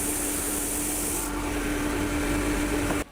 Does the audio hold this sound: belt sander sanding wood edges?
yes